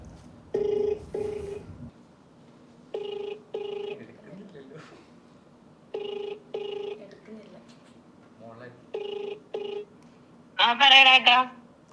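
A telephone rings during a call, sounding as a repeating pattern of paired tonal rings separated by quiet gaps over about twelve seconds. A brief, brighter, louder sound comes near the end.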